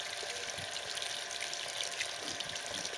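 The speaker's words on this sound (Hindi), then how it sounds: "वहाँ से पानी जा रहा" Water flows out of a small village pond with a soft, steady rushing hiss, faint and continuous with no talk.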